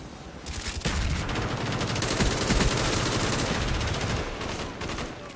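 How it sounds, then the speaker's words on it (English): Gunfire and explosions roar through a Call of Duty-style multiplayer match, a dense, loud barrage of rapid automatic shots and blasts that runs almost without a break. "Explosions everywhere."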